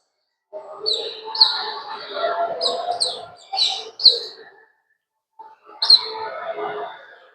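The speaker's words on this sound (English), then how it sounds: "There's a bird." A bird chirps in several bright, close bursts of tweets separated by short pauses, with a brief silence before a final burst; it is heard at a Diagon Alley spell spot at Universal Orlando.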